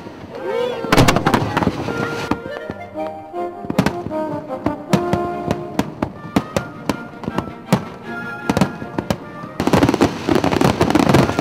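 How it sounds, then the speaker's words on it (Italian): Festa del Redentore fireworks launched from the Giudecca canal in Venice burst overhead in rapid, crackling volleys of sharp pops and booms, dense and loud, with faint voices underneath. "Dal canale della Giudecca partono i fuochi ed esplodono fino a mezzanotte."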